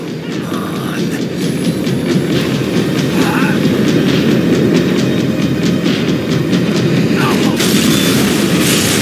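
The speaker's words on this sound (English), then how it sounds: "tram was slowing down, and I'd only just gotten on board" A tram in the video game Max Payne 3 rolls and slows, giving a steady, loud rail rumble with clattering wheel noise throughout, heard alone without speech.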